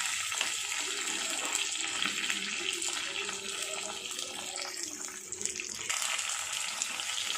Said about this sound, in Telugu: ఎండుమిరపకాయలు వేగిపోయాయి కదండి